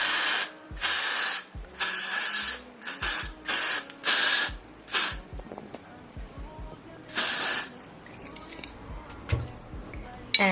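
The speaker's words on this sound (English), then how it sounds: "So now I'm just gonna spray some Got2b." Several bursts of hissing Got2b hairspray from a can, short and long sprays close by, separated by quiet gaps with faint handling noises.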